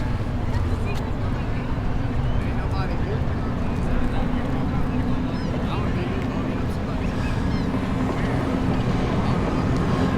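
A boat maneuvering and turning around in the water at Galveston, Texas, with a steady low engine drone and wind noise throughout, and people talking over it.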